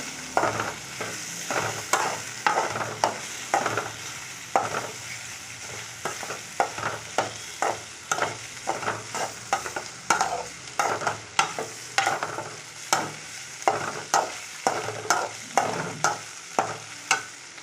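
Ivy gourd fry with spice powder being stirred and sautéed in a pan on a stove, a steady sizzle punctuated by regular, close scraping strokes of the spoon throughout, with no talking.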